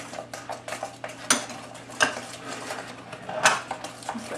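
A metal spoon scrapes and taps against a bowl while scooping mayonnaise for a turkey salad, with a string of light clinks and scrapes and a few sharper knocks at close range, no talking.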